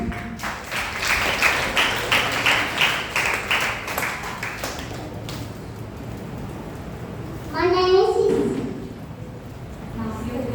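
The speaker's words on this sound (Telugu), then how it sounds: "Let's claps them." An audience claps for Sunday school children appearing in costume at a church Christmas program. The quick, rhythmic claps fill the first half and then fade, and a voice is heard briefly later.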